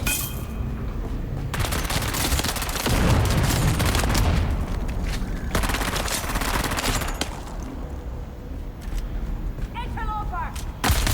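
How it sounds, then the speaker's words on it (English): In the Dune Awakening video game, a grenade goes off amid heavy automatic gunfire, with dense loud bursts and booms rolling on continuously at close range, a little thinner toward the end. "Tossing grenade!"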